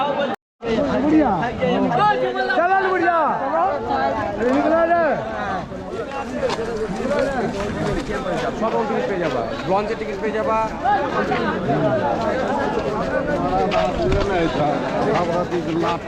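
Dense crowd chatter fills a packed railway platform near Kolkata on the way to the Gangasagar fair. Many overlapping voices talk steadily and loudly, with no pauses, for the whole stretch.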